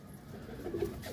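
A pigeon from a breeder's loft coos softly in a short, low, rounded burst, faint and close with no voices around it.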